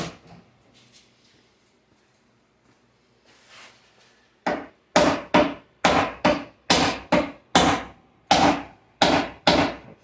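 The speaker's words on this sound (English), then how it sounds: "Let's add a ball peen hammer." Ball peen hammer flattening the trunk sheet metal of a 2009 Malibu, about a dozen sharp, close blows in a steady, slightly uneven rhythm after a quiet start.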